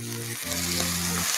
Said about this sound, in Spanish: Mojamos ahora con el poquito caldo que nos hemos reservado de la cocción del pulpo.